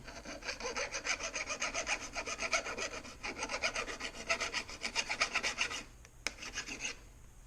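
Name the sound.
metal file removing a burr on a weeder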